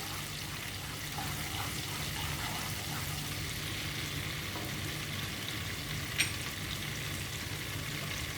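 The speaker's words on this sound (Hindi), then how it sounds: "ये हो रहा है गरम, हम डालेंगे बीच में ज़ीरा और इसे करेंगे थोड़ा सा फ्राई" Cumin seeds fry in hot oil, a faint, steady low sizzle with soft crackle and one brief sharp click.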